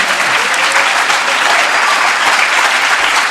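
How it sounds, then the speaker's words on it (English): Steady, dense applause from a large audience, loud and continuous for the whole stretch with no pauses or voices standing out. "yeah, applaud for God."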